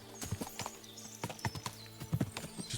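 Horses in Kingdom Come: Deliverance II clip-clop with quick, uneven hoofbeats close by, with a brief whinny in the background.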